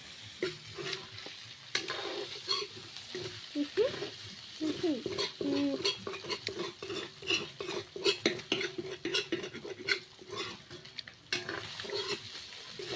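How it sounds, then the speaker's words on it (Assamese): Kuchia eel frying in a pan, a steady sizzle under repeated scraping and clinking of a metal utensil stirring against the pan, close by, with a few faint background voices. "এইফালে এয়া কুচিয়া ভাজি আছে"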